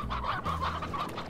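Chickens clucking on a farm in the Slime Rancher video game, several soft, rhythmic clucks in quick succession, fairly quiet and close, with no talking over them.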